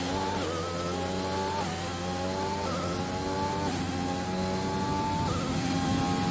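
Formula 1 car engine in the F1 2020 racing video game, a loud, steady whine that climbs in pitch and drops back at each gear change, repeating every second or so with no talk over it.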